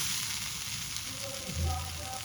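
Food frying in a pan as a Telugu breakfast snack cooks for a minute, a steady soft sizzle filling the short stretch alone, with a faint clatter near the end.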